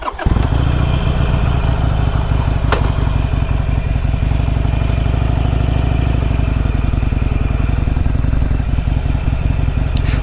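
A 2020 Harley-Davidson Iron 883 motorcycle engine running loud and close, a deep, steady V-twin rumble that holds constant as the bike sets off for a ride.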